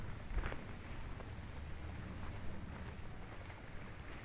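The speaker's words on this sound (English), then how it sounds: "A little bit windy, but not too bad." Steady wind buffets the open shore of Lake Coniston, a continuous low rumble of gusts across the microphone with faint water movement beneath, no voices.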